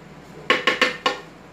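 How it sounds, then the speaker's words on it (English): Four quick clinks of a metal spoon against a container as a tablespoon of chia seed powder is added to a smoothie, evenly spaced and close, with a quiet background. "You can put 1 tablespoon. 1 tablespoon of chai seed powder to this smoothie."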